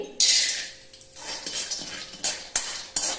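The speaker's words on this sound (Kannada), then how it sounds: "ಶೇಂಗಾವನ್ನ ಸ್ವಲ್ಪ ಫ್ರೈ ಮಾಡ್ಕೊಂತಾ ಇದ್ದೀನಿ" Peanuts frying in hot oil in a pan, with a bright crackling sizzle and several sharp metal spoon-on-pan clinks and scrapes close up, no talk.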